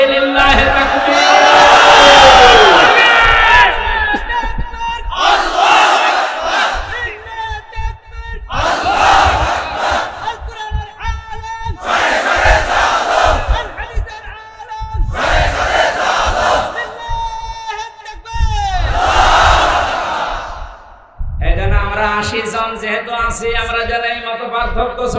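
Large crowd at an Islamic sermon in Magura, Bangladesh, roaring the takbir "Allahu Akbar" in repeated loud unison bursts, six or seven surges separated by brief pauses, with shouted call-and-response.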